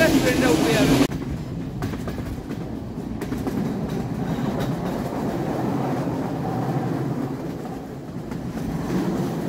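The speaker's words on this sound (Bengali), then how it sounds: "ট্রেনটি সুন্দর পাহাড়ি রাস্তা ধরে চাষের জমি, জঙ্গল, লোকজনের বাড়ির পাশ দিয়ে এগিয়ে চলেছিল।" A passenger train runs through hill country near Kandy, Sri Lanka, giving a steady close rumble with clickety-clack from the wheels after a louder opening burst; voices are faintly heard inside the carriage.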